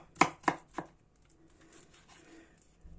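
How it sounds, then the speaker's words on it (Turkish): A knife chops eggplant on a cutting board in three quick, crisp strokes close by, followed by fainter rustling and tapping of the cut pieces. "öncelikle salatamı, patlıcanlarımı doğrayarak başlıyorum"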